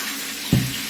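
Vinegar splashes into a hot pan of frying fish, a single short liquid pour with a brief sizzle burst rising over quiet kitchen background.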